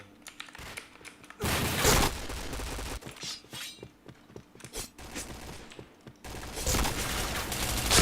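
Gunfire in the online shooter game Point Blank, dense rapid bursts of shots and impacts from the game with loud sustained volleys, a steady ticking rhythm underneath, and brief lulls between.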